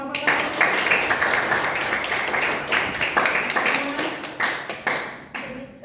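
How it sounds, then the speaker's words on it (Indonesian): Classroom applause for a student group in a seventh-grade Islamic studies lesson, a dense burst of clapping from many hands that runs the whole time at steady loudness, with faint voices mixed in. "Baik, beri tepuk tangan pada kelompok 1."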